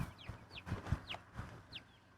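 Chickens inside a chicken tractor cluck in short, squawky calls, several close-up bursts spaced unevenly over a couple of seconds with soft shuffling between them.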